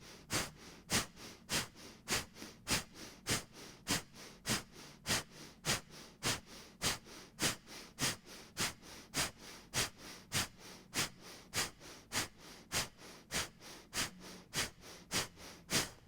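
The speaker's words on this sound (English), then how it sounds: "1 more sniff through your nose." Sharp sniffing breaths drawn through the nose during a Pilates and yoga breathing exercise, a long even series of quick inhales at roughly twice per second, close and clear with no talking.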